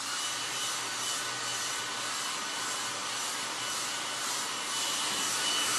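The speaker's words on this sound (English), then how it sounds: "I'm going to hit it with the hairdryer" Hairdryer blowing steadily on a freshly painted wooden carrier box to dry it, a continuous close, loud airy whoosh with a faint low hum, unbroken and without talk.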